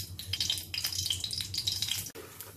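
Mustard seeds and urad dal frying in hot oil for a kovakkai poriyal, a steady close sizzle with scattered crackling pops that breaks off briefly near the end.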